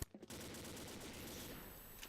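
Azazel assault rifle in the shooter game Combat Arms fires a rapid, dense string of shots after a brief opening clatter, continuous near gunfire lasting about two seconds.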